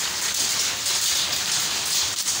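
Hail falls outdoors in the morning, a dense, constant hiss of tiny impacts pattering on surfaces, fairly loud and close, with no talking.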